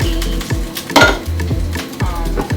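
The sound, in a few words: beef frying in pan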